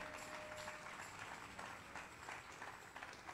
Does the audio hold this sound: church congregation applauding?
yes